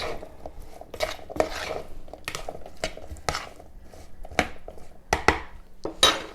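A spoon stirring a blueberry mixture in a bowl, brief clinks and scrapes of metal against the dish coming in irregular bursts, close and fairly loud with quiet gaps between.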